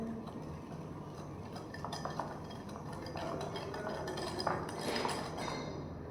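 Eggless vanilla sponge batter is stirred in a bowl, a utensil clinking and scraping against the sides in a steady, close mixing rhythm.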